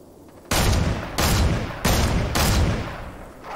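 Bursts of gunfire from the Fortnite video game, four loud sustained volleys in quick succession, sharp onsets and dense crackle, with no talking.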